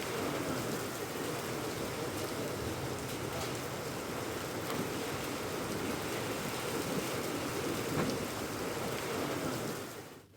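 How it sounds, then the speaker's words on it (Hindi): Heavy monsoon-season rain falls during a storm with thunder and strong winds over districts of Rajasthan, India, a dense, unbroken hiss that holds steady for about ten seconds before fading at the very end. "कई जिलों में मेघ गर्जन के साथ बारिश हो रही है।"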